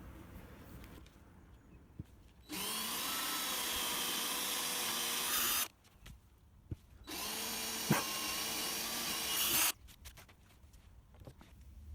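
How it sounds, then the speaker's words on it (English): A power drill boring clearance holes for bolts in a Mercedes Sprinter camper van whines loudly in two bursts of about three seconds each, separated by quiet pauses with light handling noises. "I'm just going to drill some clearance holes for the bolts"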